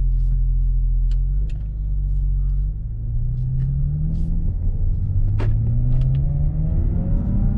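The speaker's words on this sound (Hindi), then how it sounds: "डायनेमिक में इसका एग्जॉस्ट नोट चेंज हो जाता है, परफॉर्मेंस ज़्यादा बेहतरीन हो जाती है" Audi S5 in dynamic mode giving a deep, steady exhaust drone while driving, loud and continuous throughout, with the engine note rising as the car gathers speed.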